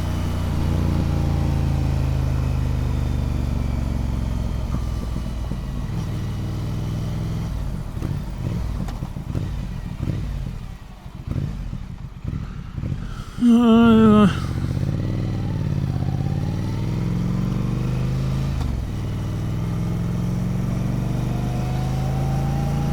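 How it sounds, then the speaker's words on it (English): A motorcycle fitted with a loud aftermarket exhaust runs close by, its engine note rising and falling as it revs, with a rough clattery stretch mid-ride before settling back to a steady drone. "This bike's louder than my MT-09 now."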